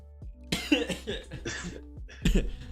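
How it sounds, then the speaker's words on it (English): A person coughs several times in quick succession after choking on a sip of water, close and fairly loud, with throat-clearing sounds mixed in. "I just cough in my water."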